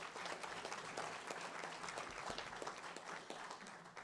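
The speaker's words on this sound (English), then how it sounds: "Let's give them a round of applause," A seminar audience claps in a steady round of applause, a dense, even patter of many hands heard alone at a moderate distance for a few seconds.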